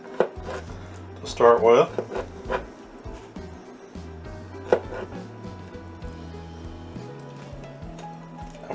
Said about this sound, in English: So let's get the bones out of it